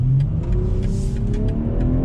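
A 2020 BMW M340i sports sedan engine pulls hard under acceleration, a loud close rising drone with climbing engine tones and a brief shift-like dip, no voices over it.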